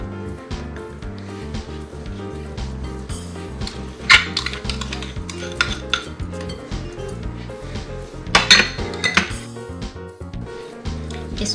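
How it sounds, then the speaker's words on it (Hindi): A spoon works room-temperature unsalted butter and sugar together in a large bowl, making repeated soft scraping and knocking strokes with a few louder clacks against the bowl, no talking. "इसको आप पहले स्पून से अच्छी तरह मिक्स कर लें"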